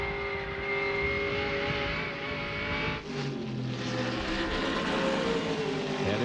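NASCAR Featherlite Southeast race cars run a road course at Sears Point, a loud, sustained engine roar with steady whining tones that shift pitch as the cars brake and accelerate through the turns.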